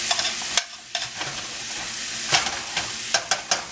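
Butter sizzles steadily in a pan, the hiss broken by several sharp scrapes and knocks of a utensil as it is stirred, close and alone with no talking.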